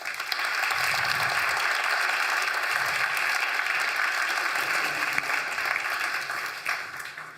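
Audience at a graduation event claps after a presentation, a dense, sustained round of applause that holds steady for several seconds before thinning out.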